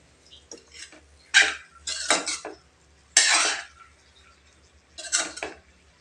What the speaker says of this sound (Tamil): இப்போ எல்லாத்துலேயும் படுற மாதிரி நல்லா கிளறி விட்டுக்கலாம்.